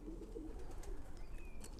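Long-distance racing pigeons, the old birds, coo softly inside a loft, low and close, while a few faint high chirps from other birds come through in the background.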